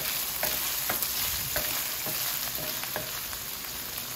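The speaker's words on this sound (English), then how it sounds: "I sauteed the meat first, make it brown, and rendered all the oil from the meat." Beef sautéing and browning in hot olive oil in a pan, a loud, dense and continuous sizzle with occasional soft stirring knocks, close up and with no voices.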